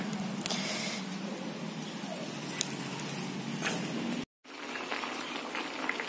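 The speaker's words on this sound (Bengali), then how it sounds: "মাছগুলো ফুটছে" Water with singi fish boils in a pot as a steady, dense bubbling hiss, fairly quiet and continuous, broken by a brief silent gap before resuming.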